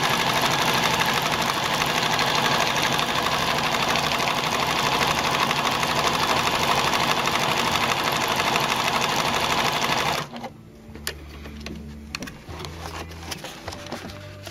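A Pfaff 1473CD sewing machine runs steadily on decorative stitch 10 with a shortened stitch length, a loud continuous whir for about ten seconds before cutting off abruptly, followed by faint clicks and handling noises.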